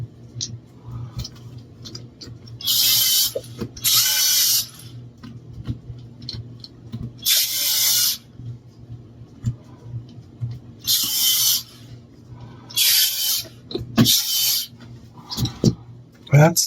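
A power screwdriver drives six screws to fasten the butt plate onto a bolt-action Nerf sniper rifle, giving several short, loud bursts of whirring separated by quiet pauses and small clicks of handling.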